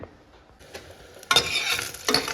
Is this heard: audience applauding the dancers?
no